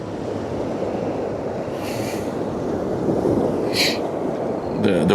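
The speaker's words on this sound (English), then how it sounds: "The waves of her are hitting the shore here now. So if you hear the waves crashing, that's from the ship." The wake of a passing ship with a Sulzer engine washes onto the Westerschelde shore as a broad, steady surf roar that swells slightly toward the end, mixed with wind buffeting and someone talking over it.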